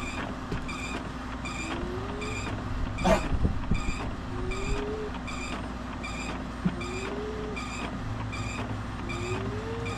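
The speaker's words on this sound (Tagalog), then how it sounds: "gumagana na yung scanner" An Epson L360 printer scanner runs with a steady hum and regular rhythmic clicks, with a short rising whir repeating every couple of seconds and one sharp clunk.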